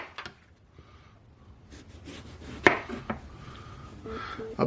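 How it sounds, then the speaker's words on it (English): A knife slicing through eggplant on a cutting board in a vegan moussaka kitchen, several close, crisp cuts and board taps spaced irregularly, quiet between strokes, no talk. "Now we gotta slice this up"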